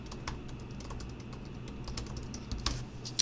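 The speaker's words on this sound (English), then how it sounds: "this text box is where I type in my text" Text typed on a computer keyboard: a quiet, continuous patter of light key clicks in an uneven rhythm, close up and alone against a soft background hiss.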